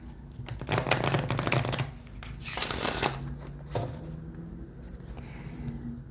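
Tarot cards riffle and slap together in a few brisk bursts, close up, with soft rustling between the shuffles and no talking.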